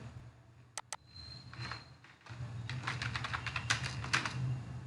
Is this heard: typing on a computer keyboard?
yes